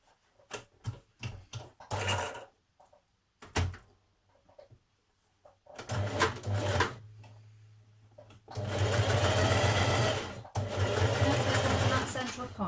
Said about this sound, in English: you're going to sew down to your fold line